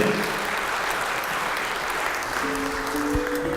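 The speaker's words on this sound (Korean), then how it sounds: "큰 박수로 시작해 보도록 하겠습니다." Steady audience applause at a worship music seminar, loud and continuous throughout, with a faint sustained musical tone entering near the end.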